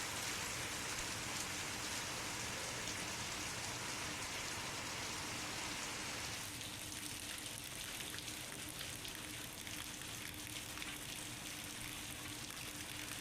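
Heavy rain pours down in Uttarakhand, a dense steady hiss of drops beating on surfaces that continues unbroken throughout, with no voices.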